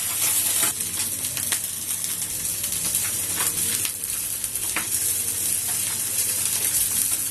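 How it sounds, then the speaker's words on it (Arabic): Ghee sizzles and crackles in a pot, a dense, steady frying hiss with scattered sharp pops throughout. "والسمنه اتقدحت معانا"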